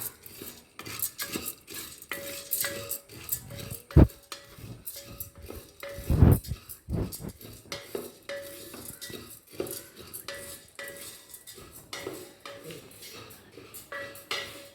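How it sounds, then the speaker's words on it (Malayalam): Chana dal is roasted and stirred in a pan, a utensil scraping and clinking against the metal in steady, irregular strokes with a couple of louder knocks, close by. "ആദ്യം തന്നെ കടലപ്പരിപ്പ് വറുത്തെടുക്കണം."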